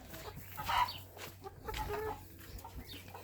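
Australorp chickens cluck in a backyard coop, a few short, soft clucks and murmurs scattered over a low steady hum, fairly close but not loud.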